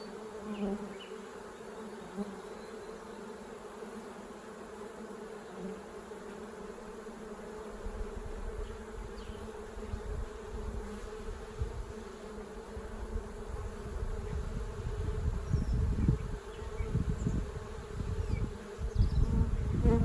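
Honey bees buzz around an opened beehive during a brood chamber inspection, a constant drone near the listener that grows louder and busier, with dense close passes in the second half.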